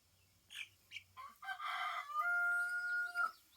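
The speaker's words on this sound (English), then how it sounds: "I think this is my rooster here." A rooster crows nearby, a loud drawn-out call with a rising start and a long held tone, after a few short clucks.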